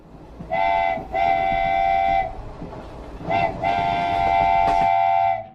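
A cartoon train sounds two long steady horn blasts, the second after a short gap, loud and close over a rumbling run of wheels.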